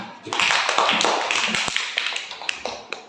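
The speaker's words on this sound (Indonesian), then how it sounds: "Oke, tepuk tangan untuk kelompok 2." Students in a classroom clap for a presenting group, a dense patter of many hands that is close and moderately loud and tapers toward sparse claps at the end.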